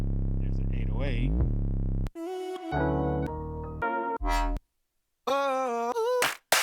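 An 808 drum sample triggered on an Akai MPC One booms as a deep, sustained bass tone with a sliding pitch, followed by several short, choppy melodic sample hits separated by gaps.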